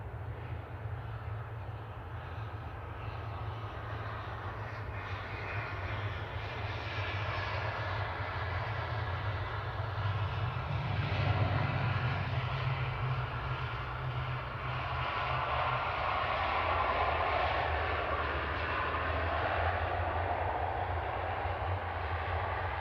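A Loganair ATR 42-600 turboprop from Aberdeen at Manchester Airport sends a steady, loud engine drone with a low rumble. The sound swells near the middle as the aircraft passes, then carries on at a sustained level with no talk.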